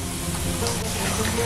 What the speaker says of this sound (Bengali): তাই একটু টাইম নিয়ে ভাজতে হবে।